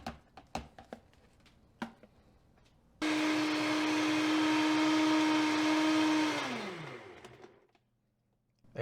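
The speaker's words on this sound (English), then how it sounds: "This is a Vitamix blender, and for some reason, it doesn't get the ice all the way every time" A Vitamix blender crushes ice for a smoothie. After a few loose clinks and taps, a loud steady motor roar runs for several seconds, then its pitch falls away as it spins down to silence.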